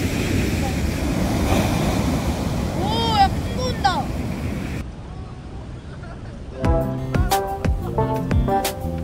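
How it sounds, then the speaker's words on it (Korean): Rough night sea waves break along a beach, a loud, wind-buffeted roar of surf. Shouts rise over it partway through, then a brief musical passage plays. "밤바다의 파도는 무척이나 거칠다."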